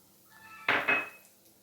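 Crushed garlic is stirred into ajwain rice in a cooking pan. Two quick metallic clinks and scrapes of the utensil against the pan sound close and fairly loud over an otherwise quiet background.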